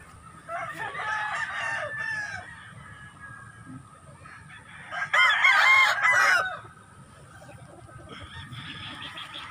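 Chickens on a poultry farm, with a rooster crowing loudly twice and hens clucking steadily between the crows, all close by.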